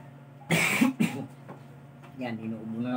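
A man coughs twice in quick, loud, close bursts, then starts speaking.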